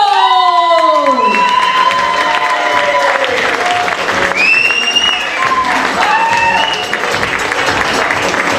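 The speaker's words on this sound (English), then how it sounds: "give a nice big round of applause for the first comedian coming to the stage" Applause and cheering from a comedy class show audience as a comedian comes to the stage, with rising whoops and shouts over steady clapping throughout.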